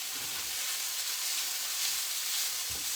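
Food sizzles and fries in a hot pan, a loud, steady broadband hiss of frying with faint low stirring knocks near the end and no talk.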